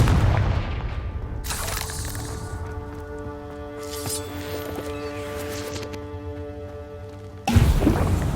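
A Confringo fire spell blasts in Hogwarts Legacy, a loud booming explosion opening the clip, then a sustained rumbling tail with tonal layers, and a second heavy burst near the end.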